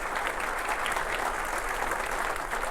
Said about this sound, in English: Let's give a round of applause for our police and fire honor guard